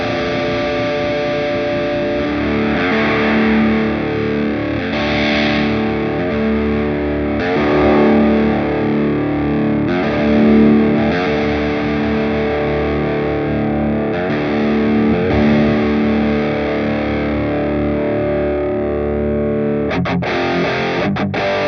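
Heavily distorted rock/metal guitar tone from a Mooer Prime M2 multi-effects unit with an EQ block, playing sustained riffs and chords loud and close for about twenty seconds, with no talk.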